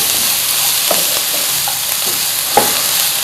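Spring onion whites and mixed vegetables frying over a high flame in a pan, a steady broadband sizzle with a few soft scrapes and one sharper clink near the end, no talking.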